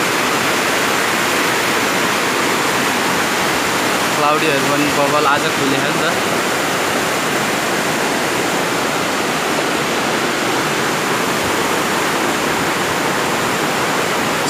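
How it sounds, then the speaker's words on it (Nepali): A flooded Midim river in a Nepali village rushes loudly and steadily the whole time, a broad continuous roar close by, with someone talking briefly over it. "यो चाहिँ हाम्रो गाउँको, हाम्रो भिलेजको खोला है, त्यो मिदुङ खोला"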